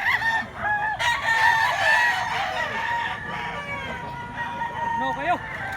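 Rooster crowing repeatedly at a cockfighting rooster market in Mantalungon, Cebu, several crows overlapping from near and farther birds, with clucking and a busy crowd murmuring underneath.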